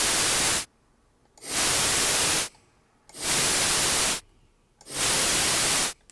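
Four bursts of synthesized noise, each rising over about 100 milliseconds, holding steady for roughly 800 milliseconds and falling away over 100 milliseconds. The bursts are separated by near-silent gaps and there is no voice.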